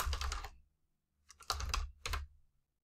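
Computer keyboard typing a bibliographic record ID into library software: a short burst of quick keystrokes, a pause, then two more brief clusters of taps, close and clear in a quiet room.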